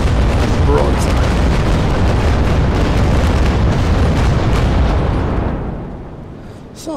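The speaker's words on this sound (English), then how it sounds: "all 4 decks, aiming shot and broadside." A broadside from all four gun decks of the Santissima, a large wooden sailing warship in the naval combat game Naval Action, roars as one dense, sustained rumble of cannon fire that fades away near the end.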